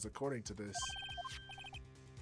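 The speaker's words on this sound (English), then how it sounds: "I heard a phone ring just now. One of those newfangled ringtones." A synthesized melodic phone ringtone from the Ace Attorney video game chirps in short repeated electronic beeps, starting just after a brief bit of speech and continuing loud and close.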